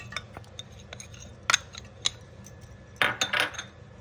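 Pieces of jaggery drop into a steel mixer jar, giving a few sharp clinks and rattles, with a louder cluster of knocks near the end, close and alone without talking.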